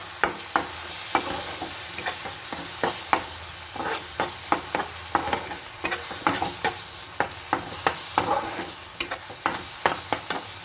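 Spice masala for garlic ginger chicken sizzles in a pan as a spoon scrapes and stirs it in quick, repeated strokes, the clatter riding over a constant close hiss with no talking.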